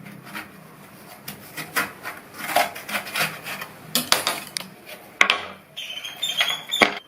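Seeds and pulp being scraped out of a halved ash gourd in a kitchen, with repeated rough rasping strokes in an uneven rhythm and a few sharper knocks, close and fairly loud.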